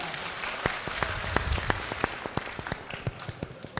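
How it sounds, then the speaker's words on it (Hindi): Audience applause at a mushaira, a poetry gathering, as a guest poetess is welcomed: a sustained crowd clapping, dense at first and thinning into scattered individual claps toward the end. "जोरदार तालियों से इस्तकबाल कर दीजिए अपनी मेहमान शायरा का एक बार।"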